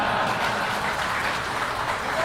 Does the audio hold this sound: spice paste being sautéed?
no